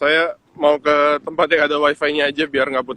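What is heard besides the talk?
No distinct noise like a dog, phone or traffic.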